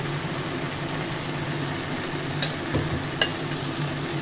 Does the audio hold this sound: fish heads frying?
yes